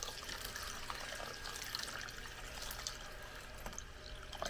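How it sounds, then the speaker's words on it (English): Filtered water poured into sourdough mix in a kitchen, a steady soft splashing stream running the whole time at low level with no talk. "We're just going to pour in a bunch of filtered water"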